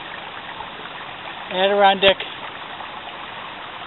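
A small creek flows from the outlet of Mud Lake along the Northville Placid Trail in the Adirondacks, a soft steady trickle heard close by while someone briefly speaks over it.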